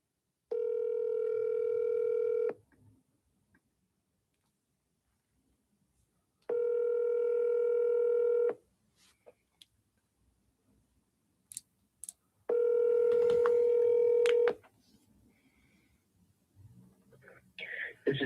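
A telephone call rings out on the line: three long, loud tone bursts separated by silent gaps, followed by faint clicks and rustling.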